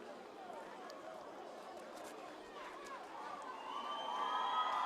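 A stadium crowd cheers for Vanuatu's javelin throwers during the men's javelin at the 2017 Pacific Mini Games in Vanuatu. The roar is steady and broad, then swells louder toward the end.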